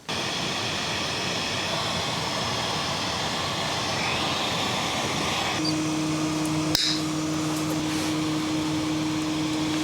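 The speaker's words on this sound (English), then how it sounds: "So now I'm going to heat shrink these." Heat gun shrinking heat-shrink tubing over wire connections during a Denali CANsmart install: a steady, loud blowing roar throughout, with a constant whine entering partway through and a short click near the end.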